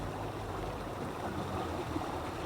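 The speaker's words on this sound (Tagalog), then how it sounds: "Lakas ng tubig, no?" Strong, steady rush of flowing water, loud and close, with a constant broadband roar and no talk over it, at a spring or stream in a misty upland place during rain.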